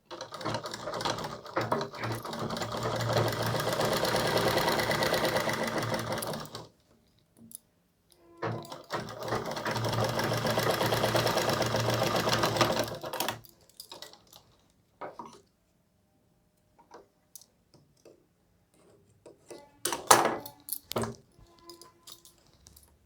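A sewing machine stitches the fabric of a round collar suit in two long steady runs of rapid mechanical whirring, several seconds each, followed by quieter clicks and handling of cloth, close up and without talk.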